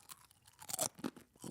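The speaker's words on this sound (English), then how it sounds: "That's crunchy." Crunching on a spicy crisp at a food and beverage showcase, with several close, crackly bites and chewing crunches heard alone in quick uneven succession.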